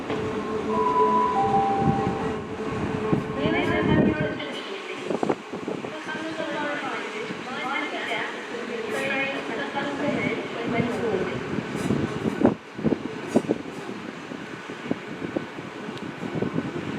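A Great Western Railway Class 800 unit, 800 017, arrives at Bristol Temple Meads from London Paddington, with a steady mechanical hum and rumble of the train pulling in and station noise, overlaid by a platform announcement and voices.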